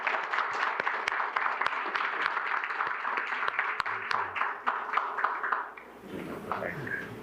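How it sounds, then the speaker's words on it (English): Audience at a board of education meeting applauding a presenting team, sustained clapping from a roomful of people with some scattered sharp claps, fading out near the end as people begin talking. "Let's give them a big round of applause."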